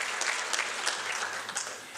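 A brief burst of audience applause at a student ceremony, dense clapping from many hands at moderate distance, holding steady for a couple of seconds.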